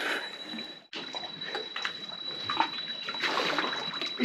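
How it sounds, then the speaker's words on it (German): Swimming in a jungle lake in Khao Sok National Park, Thailand, with continuous watery splashing and churning close by, steady and moderately loud throughout after a brief gap near the start. "Ich schwimme mal zu dem Seil."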